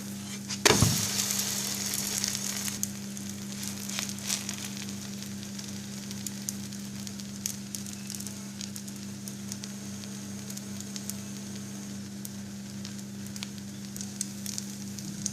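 Moroccan flatbread fries in oil in a pan with a steady, quiet sizzle and scattered crackles, opening with a brief louder clatter before settling into a continuous hiss.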